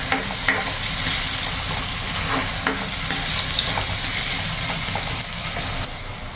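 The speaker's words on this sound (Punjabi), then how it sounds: "ਬਸ ਪਿਆਜ਼ ਥੋੜਾ ਸੇਕ ਲਗਾਉਣ ਤੋਂ ਬਾਅਦ ਨਾਲ ਹੀ ਆਪਾਂ ਅਦਰਕ ਤੇ ਟਮਾਟਰ ਇਹਦੇ ਵਿੱਚ ਐਡ ਕਰਾਂਗੇ" Onions fry in a pan for a bhartha while ginger and tomato go in, making a loud, dense sizzle with constant stirring and scraping across the whole stretch.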